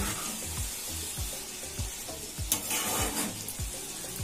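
Ridge gourd and potato with spices fry in a pan, a dense steady sizzle close by with rhythmic low knocks and scrapes of a spatula stirring, plus a brief splashy hiss midway; no voices.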